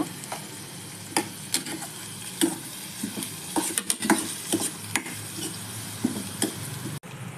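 Sliced onions with a pinch of turmeric frying in a pan as the base for an eggplant curry, with a steady sizzle broken by repeated scraping stirs of a spoon against the pan, close and fairly quiet, with no talking.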